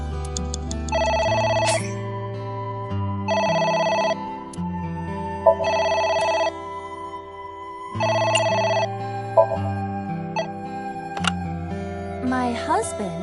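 A telephone rings inside a PS4 video game, sounding in repeated bursts of several seconds each, separated by short pauses, over a continuous game music bed with occasional short clicks.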